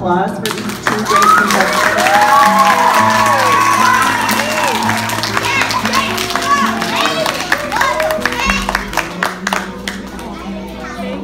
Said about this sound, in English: Another round of applause for these two great